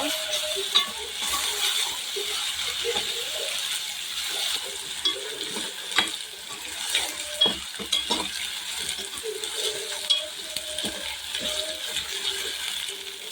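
Chopped tomato going into ginger paste frying for mutton curry, a steady sizzle under repeated scraping and stirring with a metal spoon, with occasional sharp clinks against the pan and no voices.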